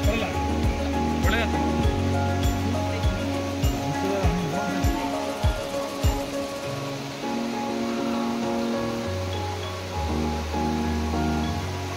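Steady rushing water of Koodlu Theertha waterfall at Hebri on the Sita river roars continuously in the background while people talk over it.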